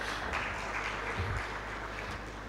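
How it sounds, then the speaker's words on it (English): Audience applause fills a conference hall at an alternative investments gathering, a steady, dense wash of clapping that holds evenly at moderate loudness throughout. "Yes, you can clap."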